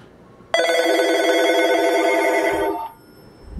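Several classic telephones, including an old British phone, ring together in one loud, continuous bell trill lasting about two seconds, then stop abruptly, with no speech.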